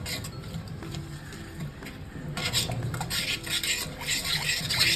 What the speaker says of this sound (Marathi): लाल मिरची पावडर टाकायची हळद टाकायची चांगलं मिक्स करून घेऊया